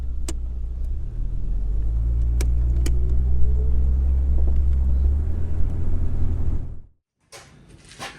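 A 1978 Jaguar XJ6 driving on the road, a steady low engine and tyre rumble heard from close by with a few faint clicks and knocks, then cutting out abruptly near the end to near silence and a thin hiss.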